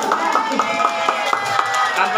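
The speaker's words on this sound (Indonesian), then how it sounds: "Tepuk tangan." Steady applause from a group of hands clapping in a kindergarten classroom, a dense, continuous patter with no one speaking over it.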